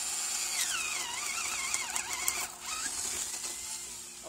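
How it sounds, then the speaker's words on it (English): A power drill bores a hole, its motor whining and wavering in pitch under load as the bit bites, loud and close, with a short dip partway through before it resumes. "You have the drill."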